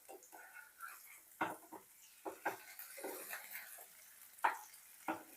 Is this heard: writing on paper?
no